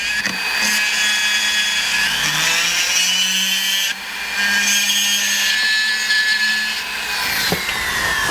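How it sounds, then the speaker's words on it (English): A rotary barrel burr grinds a metal ring, giving a loud, steady, high-pitched grinding whine that runs almost without a break, with one brief dip near the middle and no voices. "I'm going to actually attack it with a burr. I like these little barrel burrs."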